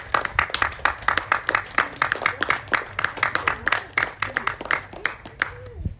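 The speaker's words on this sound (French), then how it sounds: "On peut les applaudir d'être présents." Applause for four Landwehr band musicians at an Easter Eve Mass in a Fribourg care residence, a dense run of hand claps lasting several seconds before tapering off.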